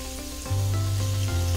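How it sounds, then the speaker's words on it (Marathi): Tomatoes with onion and garlic cook in oil in a pan, giving a steady soft sizzle, with a low continuous hum rising partway through. "मी याला छान फिरवून घेते आणि याला दोन मिनिट शिजू देते."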